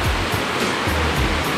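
Clear river water rushes steadily past a spot where people do laundry, a close, continuous broadband wash with no talk over it.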